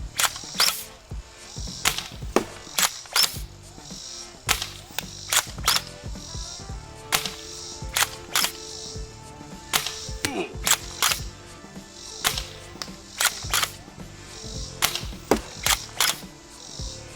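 A TMG-02 bullpup revolver-style foam dart blaster fires repeatedly in a long string, each shot a sharp snapping crack with mechanical clicks between, close and fairly loud.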